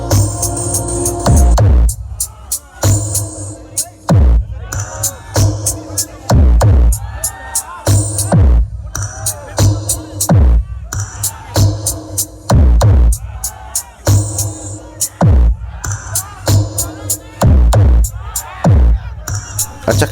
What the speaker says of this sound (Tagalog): Grabe sigawan ang Mgatao, Parang nasa sabongan lang.